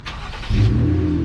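A 2020 Jeep Gladiator with a Magnum Flow exhaust cold-starts close by: brief cranking, then the engine catches and settles into a loud, deep, steady idle.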